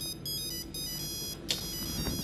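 A phone ringtone plays in steady repeating electronic tones, fairly quiet and continuous throughout, with no talking over it.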